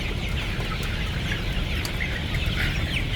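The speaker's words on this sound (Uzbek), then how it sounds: "Jo'jalar asasi yaxshi holatda." Chickens and chicks on a poultry farm raised in mesh cages cluck and cheep steadily, a dense, continuous flock chorus over a low hum, with no talking.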